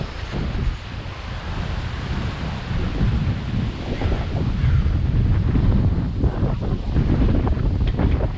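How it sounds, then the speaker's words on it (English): Strong wind at a marina buffets the microphone in a constant loud roar, with low rumbling gusts rising and falling and no voices. "And it's windy as hell."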